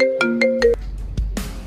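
A phone ringtone for an incoming call plays a short, bright electronic melody of four quick ascending tones, loud and close, followed by brief clicks and a noisy burst.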